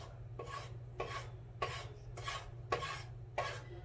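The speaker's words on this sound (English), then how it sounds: "I'm going to use the spatula and I'm going to move it around to get my roux going" A spatula scrapes flour around a warm pot to make a roux for Belizean conch soup, six evenly spaced rasping strokes over a low steady hum, close and fairly quiet, with no talk.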